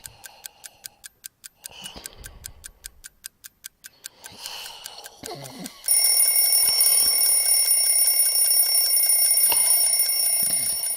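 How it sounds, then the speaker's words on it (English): A traditional mechanical alarm clock ticks in a steady, crisp rhythm for several seconds, then its bell bursts into loud, continuous metallic ringing that persists to the end. "The ticking would definitely keep me awake, and I know it would keep Mrs. Soup awake. And that bell, so annoying."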